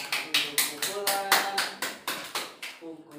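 Class applause for a martial arts lesson, a group clapping in a steady rhythmic beat of about a dozen claps, fairly close and alone without talk.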